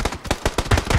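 Rapid automatic gunfire from the video game PUBG crackles in a fast burst of sharp shots, loud and close, with no talking.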